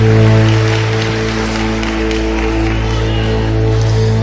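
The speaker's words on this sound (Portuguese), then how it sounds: "os que podem, tomem o seu assento aplaudindo a Jesus" Congregation applauding inside a church during a service, a steady wash of many hands clapping over sustained organ or keyboard tones, with faint voices mixed in throughout.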